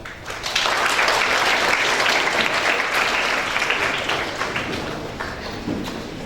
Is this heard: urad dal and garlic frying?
no